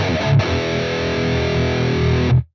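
A boosted, heavily distorted electric guitar amp tone from a Bogner capture rings out as a thick sustained chord with a short pick attack near the start, then cuts off abruptly, loud and close.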